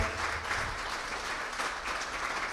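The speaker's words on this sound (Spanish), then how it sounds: "Denle un aplauso al Señor si usted cree eso." Steady applause from a church congregation during a Pentecostal sermon, a dense continuous clatter of clapping hands that holds evenly throughout.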